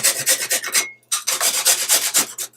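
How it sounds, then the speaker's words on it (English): Fresh ginger is rubbed against a small hand grater in a home kitchen, giving loud, close, rhythmic rasping strokes in two quick runs with a short pause between them. "to grate the ginger, you just grate it with a small grater"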